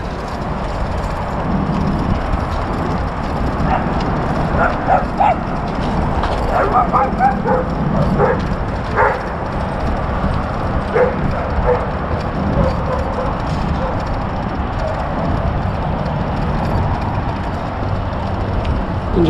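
Several dogs bark and yip intermittently at a distance at a small-dog park in New York City, over steady outdoor wind and traffic noise.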